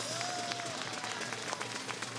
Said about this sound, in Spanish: Un fuerte aplauso para los corredores de silla de ruedas.